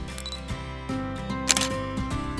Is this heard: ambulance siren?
no